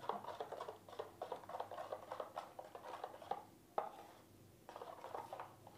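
A spoon mixes sooji and potato idli batter with salt and a little sugar, producing soft rhythmic scraping and squelching strokes against the bowl, quiet and close, with short pauses between rounds.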